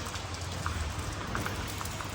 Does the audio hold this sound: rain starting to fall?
yes